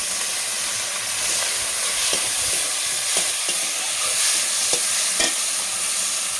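Chopped tomatoes and turmeric frying in a pan, a steady close sizzle and hiss with scattered soft stirring knocks throughout.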